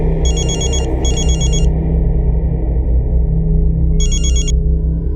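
A telephone rings in two quick bursts, pauses, then rings once more, loud and close over a low steady rumble.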